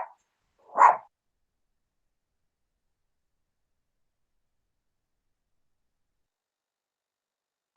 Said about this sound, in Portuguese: A cachorra está latindo aqui, está atrapalhando tudo